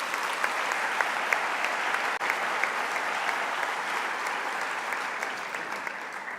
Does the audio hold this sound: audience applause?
yes